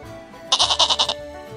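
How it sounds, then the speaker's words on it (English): A goat lets out one close, loud bleat with a rapid wavering tremble, pulsing about half a dozen times in under a second. "The goat says,"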